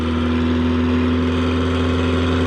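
A tractor engine runs steadily while driving a single-row corn chopper at a museum harvest day, a loud, constant close-up drone with no pauses and no voices.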